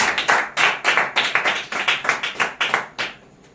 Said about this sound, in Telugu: ఒకసారి క్లాప్స్ కొడదాం దేవునికి మహిమ.